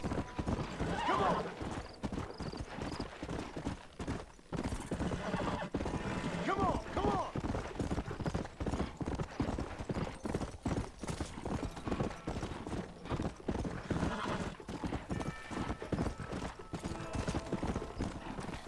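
Horse hooves clip-clop steadily in the video game Red Dead Redemption, a rapid rhythmic trot close up, with several neighs and whinnies breaking through; someone talks faintly underneath at times.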